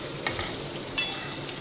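Paneer fries in hot oil in a pan, giving a close, continuous sizzle broken by two short bursts of stirring, with no voices.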